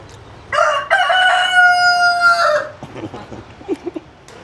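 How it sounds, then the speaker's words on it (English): A rooster on a table at a rural Balinese roadside eatery crows loudly and close by in one long call, followed by a few short clucks. "So we've got a rooster on the table over here, look, crowing away."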